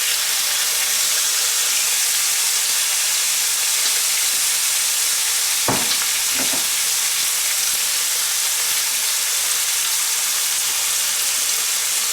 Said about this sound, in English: These pieces will crisp up first, and then we just keep on adding bacon until this entire package is cooked up